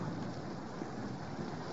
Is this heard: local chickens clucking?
no